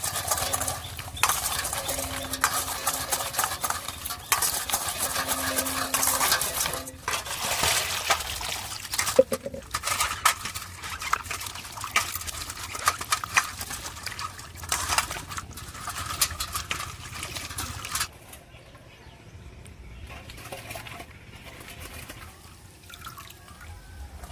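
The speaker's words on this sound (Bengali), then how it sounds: "এবার ভালো করে ধুয়ে নেবো আমাদের এই সিজির মধ্যে দিয়ে ভালো করে এইভাবে ঘষতে হবে" Freshly cut lata fish are rubbed and rinsed in a sieve under running water, with a busy splashing trickle and patter mixed with rough scrubbing noises that thin out to quiet drips in the final few seconds.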